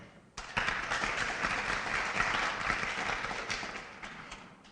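Audience applause fills an awards ceremony at an annual meeting, steady dense clapping that starts abruptly and holds for several seconds before easing slightly.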